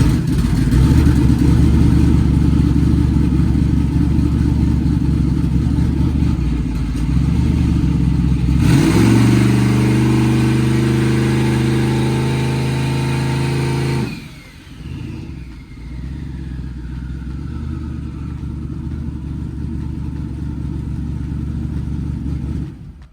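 Nitrous-assisted twin-turbo car engine revving hard and holding high rpm while the turbos spool, then cutting back to a rough lumpy idle; loud and close, with no talk.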